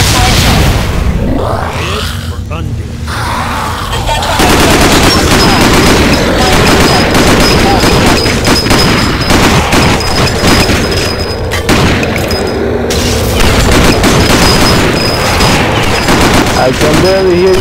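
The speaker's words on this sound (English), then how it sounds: "I can barely hear you over the gunfire" Rapid gunfire and booming blasts from the video game Dead Effect 2 fill the scene in dense, continuous bursts, loud and sustained, with voices talking over the shooting at times.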